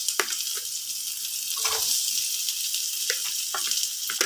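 Onions frying in a pan for pancit, a loud steady hiss of sizzling oil close up, with occasional light clicks and scrapes of a utensil against the pan.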